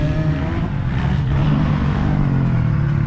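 A dirt bike engine drones and revs steadily at a motocross track, a loud, continuous buzzing hum with no voices.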